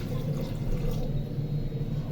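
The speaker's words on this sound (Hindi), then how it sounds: "1 लीटर पानी डालेंगे।" One litre of water is poured into a cooking pot for restaurant-style dal tadka, a close, steady gushing rush of liquid heard alone.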